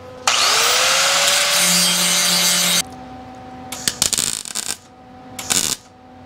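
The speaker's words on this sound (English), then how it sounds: "put the little thicker cutoff disc on here. I use this for grinding the welds down" Angle grinder fitted with a thick cutoff disc grinding down welds during rust repair on a VW Westfalia camper bus, a loud sustained whine for about two and a half seconds, then a quieter idle and a few short bursts of grinding.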